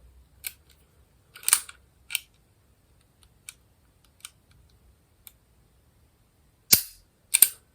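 A pistol bought at a Swiss auction is handled up close: sparse, sharp metallic clicks and snaps, including a few louder ones as the safety is switched off, separated by silence.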